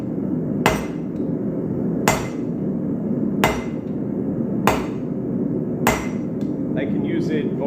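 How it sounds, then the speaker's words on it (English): Five heavy, evenly spaced hammer strikes ring out as a blacksmith hammers metal over a bottom fuller, each blow sharp and bright over a steady background roar of the forge. "I can use it almost like a cross-peen hammer to widen out the material."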